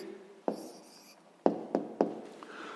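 Pen writing out an answer on paper for a sixth-grade maths exercise: soft scratching with a few sharp taps as strokes land, close and quiet, with no voices.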